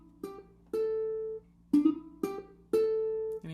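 A computer plays back a ukulele blues riff in clean, plucked, sequenced notes. Short phrases repeat with sustained tones and sharp attacks, sounding even and unaccompanied at a moderate level.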